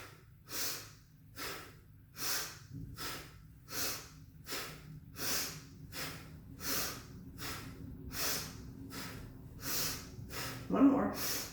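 Breath of joy yoga breathing during a standing pose routine: a close, steady rhythm of audible sharp inhales and exhales, roughly a dozen breaths in an even pulse, alone with no speech.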